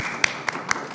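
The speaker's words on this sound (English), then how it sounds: "Let's have a round of applause for our panelists." A few scattered, separate claps at a conference panel, roughly four distinct hand claps spaced across a second, fairly faint and sparse rather than a full round of applause.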